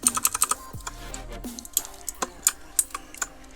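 Several quick plastic clicks of computer keyboard keys pressed together as a shortcut, close and crisp, coming in short irregular bursts over a low hum, with a brief low tone partway through.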